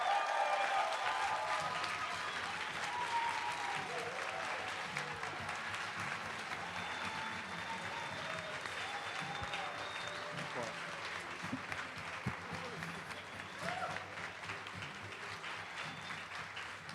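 Sustained audience applause fills a large hall at a drug policy awards ceremony, a dense steady wash of clapping from a crowd with faint voices mixed in throughout.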